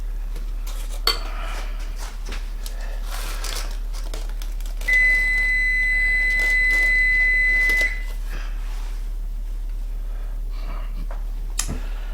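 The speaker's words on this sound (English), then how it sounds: "That's my oven. I'm preheating it to 350 degrees." A home kitchen oven preheating to 350 degrees gives one sustained electronic beep about three seconds long, set among light clinks of cutlery and dishes.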